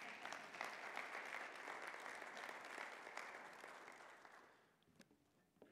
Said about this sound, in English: Where I come from, we give people applause for stuff like that.